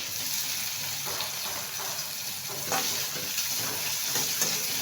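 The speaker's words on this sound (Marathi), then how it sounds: "आता याच्यामध्ये मी बारीक चिरलेले टोमॅटो घालून घेणार आहे।" Finely chopped tomatoes dropped into onions frying in a pan, for a spicy dried-fish curry: a steady, even sizzle and hiss carries throughout at close range, with no voices.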